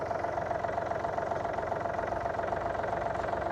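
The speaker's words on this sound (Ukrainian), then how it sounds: "поки я включив понижену швидкість, хочу вам показати трактор власне в самому русі" A Yanmar F230 tractor engine chugs steadily in low gear while moving, producing a close, continuous knocking drone with an even rhythm and no talk.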